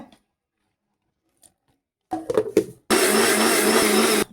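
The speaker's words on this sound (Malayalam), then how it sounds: "ഞാനിതൊന്ന് അരച്ചെടുക്കട്ടെ" A mixer grinder grinds chili powder, Kashmiri chili and turmeric for a Kerala sardine curry, starting with a few short bursts before settling into a loud, steady whirring roar.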